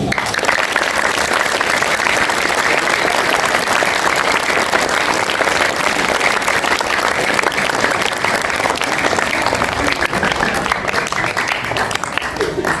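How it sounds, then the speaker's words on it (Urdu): Sustained applause fills a Government High School gathering in Pathargarh, Hassan Abdal, as the audience claps for the children, a loud, dense and steady wash of many hands lasting throughout, with some voices mixed in. "ان بچوں کے لیے بہت ساری تالیاں۔"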